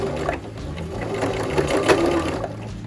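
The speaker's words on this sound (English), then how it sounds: "we're going to back stitch several times" A sewing machine runs steadily at close range, back stitching several times over the elastic ends of a fabric face mask, its motor and needle making a continuous rapid mechanical whir alone.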